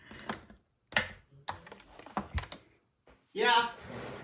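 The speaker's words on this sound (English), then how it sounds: "I just dropped the plates all over, or they fell off. So that was the crash." Metal cut-and-emboss die plates clatter and crash as they drop onto a craft table: a series of sharp clacks and impacts, then a louder scraping clatter near the end, with a voice mixed in.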